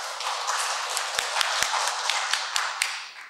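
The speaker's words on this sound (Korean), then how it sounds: "박수 좀 쳐주세요" A Catholic congregation at Sunday Mass in Jayang 2-dong church applauds together, producing a steady wash of clapping with a few sharper claps standing out, fairly close and with no talking.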